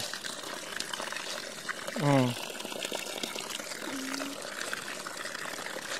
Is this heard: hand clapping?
no